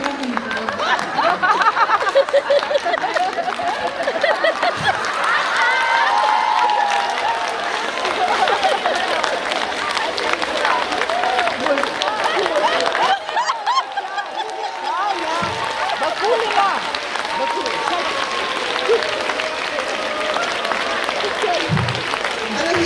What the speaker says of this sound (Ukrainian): дуже вдячна за ваші оплески